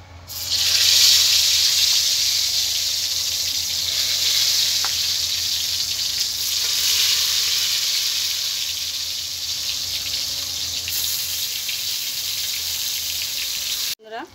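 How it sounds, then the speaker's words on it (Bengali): Eggplant pieces frying in hot mustard oil in a wok give a steady, fairly loud sizzle that runs for the whole stretch with no talking over it. "আমি বেগুনগুলোকে ভেজে নিচ্ছি।"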